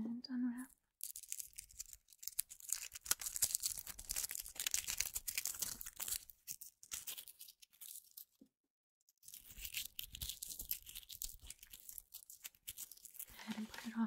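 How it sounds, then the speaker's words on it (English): Wrapped present being unwrapped close to a microphone: bursts of rough paper tearing and crinkling, loud and crisp, with short quiet pauses between rips. "And unwrap."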